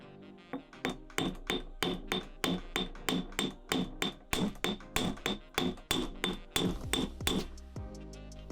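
A metal hammer strikes the end of a rivet being flattened while making a lockpick, about twenty sharp ringing blows in a quick, even rhythm, close and clear.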